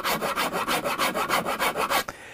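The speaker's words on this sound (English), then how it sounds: "when the grain is being difficult, you attack it with a Shinto" Shinto rasp shaping the wood of a Hofner Galaxie guitar during restoration: about a dozen rhythmic, evenly spaced rasping strokes, close and loud, ending abruptly with a short knock and quiet.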